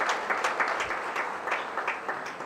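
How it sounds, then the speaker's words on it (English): Steady applause from a crowd at a commencement ceremony, dense overlapping claps filling the whole stretch at moderate loudness with no voices on top. "Give a big applause to these doctors and nurses."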